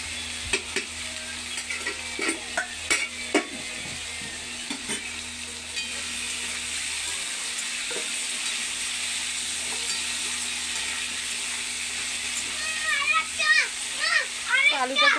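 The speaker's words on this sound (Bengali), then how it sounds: "আলুটা একটু ভাজা ভাজা হোক বন্ধুরা।" Potatoes sizzle steadily in a hot pan with close clinks and scrapes from stirring, while someone talks intermittently and high chirpy voices rise near the end.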